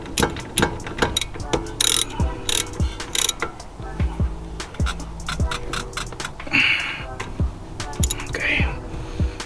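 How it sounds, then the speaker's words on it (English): A ratchet wrench tightening a 14mm bolt on the brakes of a Mazda 3, with rapid, loud, close clicking in repeated bursts and short pauses, a voice speaking briefly. "Put back the 14mm screw. Use 19 to counter the rotation of this."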